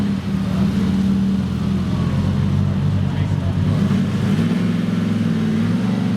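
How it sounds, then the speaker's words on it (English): A 1932 Alfa Romeo P3 Tipo B racing car's engine idles at a concours of elegance, a loud, steady low rumble close by that fills the whole stretch, with a voice talking over it. "This is a 1932 Alfa Romeo P3 Tipo B"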